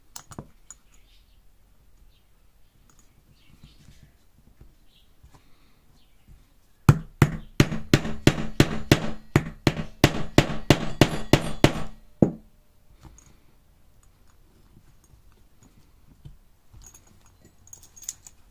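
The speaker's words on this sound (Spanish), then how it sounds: "Cojo el saca bocados" A leather hole punch is struck repeatedly to punch holes in a leather dog collar, producing a quick run of about fifteen sharp, loud knocks in a steady rhythm, close by, with quiet surroundings before and after.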